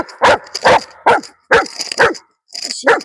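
A dog barks loudly and close, in a series of about eight sharp, yappy barks spaced irregularly, with a short pause near the end before a final pair.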